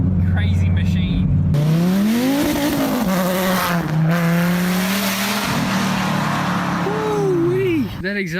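A Dodge Viper TA's exhaust roars loudly up close, the pitch sweeping up and down as it accelerates and shifts, with a brief tire squeal near the end.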